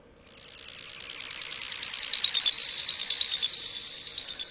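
A spacey synth sound effect from the Albino synth plugin, used as an accent in a Dr. Dre-style beat: a bright, rapidly pulsing chirping tone that sweeps gradually downward over about four seconds, heard alone.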